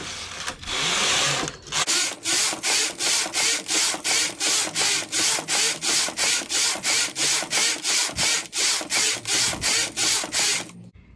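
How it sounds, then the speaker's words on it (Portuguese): A domestic knitting machine working thick wool on a plain stitch setting, its carriage sliding back and forth in a fast, even rhythm of about twenty close, loud rasping passes with a clack at each end, no talk. "Vou tecer até 40 carreiras."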